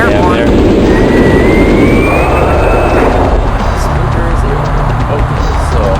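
Jet aircraft engine roar in the Fighters Anthology flight game during a Ukraine mission, a loud steady broadband rush with a rising whine early on, under continuous talk.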